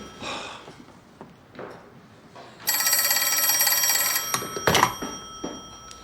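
An old-fashioned telephone bell rings loudly with a continuous metallic trill for about a second and a half, with rustling and movement sounds before and after.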